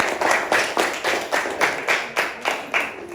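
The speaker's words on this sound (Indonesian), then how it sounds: "silakan dulu kita tepuk tangan untuk kelompok" Primary-school classroom clapping for a student group: a rhythmic, unison beat of sharp claps about three per second, fairly close, with no talk over it.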